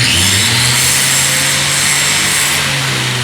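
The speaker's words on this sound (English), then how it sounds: "So I'm gonna try and weld these two little pieces together and we'll see how this goes" Two small pieces of metal are welded together on a rusted school bus floor in a first attempt at welding, making a loud, continuous crackling buzz over a steady low hum with no break.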